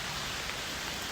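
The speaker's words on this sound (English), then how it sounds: "It's freaking pouring out." Heavy rain pours down in a dense, steady hiss with no pauses or voices.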